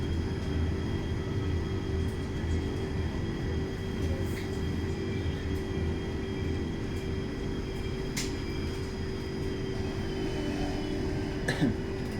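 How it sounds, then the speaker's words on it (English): An Italo high-speed train on the line toward Roma Tiburtina gives a long, steady rumbling hum with a constant low drone, near and unbroken, with brief faint clicks near the end. "This is another high-speed train, obviously the Italo train."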